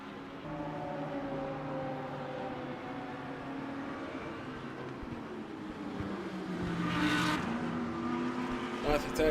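Race car engines drone and shift at Fuji Raceway during a sprint series round, with a sharp burst of revving or tire noise near the end, all under steady crowd and track ambience.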